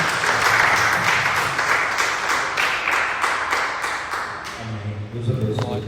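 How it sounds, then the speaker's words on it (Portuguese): A church congregation gives a round of applause, brisk rhythmic clapping from a group that fades out, followed by a voice speaking near the end. "Uma salva de palmas."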